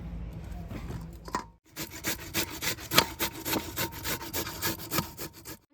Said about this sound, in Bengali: গ্রেটারের সাহায্যে গাজর আর বিটটা গ্রেট করে নেওয়া হবে